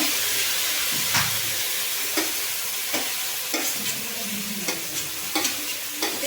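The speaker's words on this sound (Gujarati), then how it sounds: "ધાણા ભાજીની અને આદુની પેસ્ટ છે એ ટમેટું છે અને ડુંગળી છે એ નાખી દેવાની છે." A tomato, onion, coriander, chilli and ginger paste with garlic fries for pav bhaji, a close, steady sizzle broken by regular stirring scrapes of a spoon in the pan.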